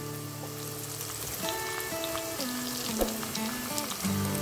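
Corn kernels coated in cornflour deep-fry in hot oil with a steady, dense crackling sizzle under background music, bubbling evenly without break.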